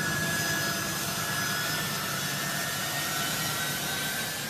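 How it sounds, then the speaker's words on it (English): A U.S. military jet taking off from Kabul airport, a steady, loud roar of jet engine noise with broadband rumble and a faint high whine, sustained throughout without any talk. "a U.S. military jet as it took off from the airport in Kabul"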